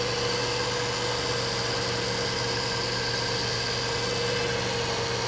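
Rebuilt high-mileage Toyota engine running after assembly, not yet smooth; a loud, close, continuous idling drone with steady vibration throughout and no talk.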